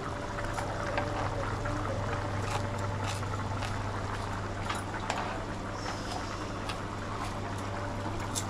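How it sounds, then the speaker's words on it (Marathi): Squid curry gravy, Koli style, simmering in a pot, giving a steady low bubbling and hissing texture that continues evenly throughout, with faint scattered pops and no talk. "ग्रेव्ही एकदम मस्त शिजत आलेली आहे"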